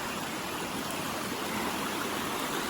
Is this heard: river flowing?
yes